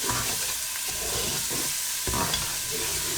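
Masala frying with chopped green chillies in a pan, a steady sizzle with occasional stirring scrapes, close and continuous with no talk.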